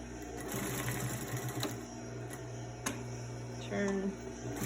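A sewing machine stitches fabric for a homemade face mask with elastic, a quick rhythmic mechanical chatter in short bursts with pauses, close by, while someone talks quietly over it.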